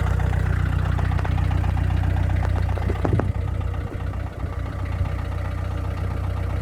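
A diesel car engine idles steadily with a low, knocking rumble, close and continuous, a few faint clicks in the middle.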